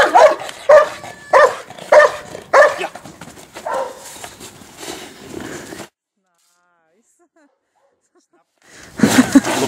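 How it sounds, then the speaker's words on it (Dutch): Dog barking on command during obedience or protection training: a string of loud, close barks in quick bursts, then silence, then barking resumes. A handler's spoken commands can be heard between barks. "Zoek hem blaf!"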